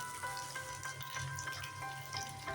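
Ginger-cumin paste sautéing in hot oil in a pan: a steady, close sizzle and crackle with small popping spits throughout, continuous and even with no talk.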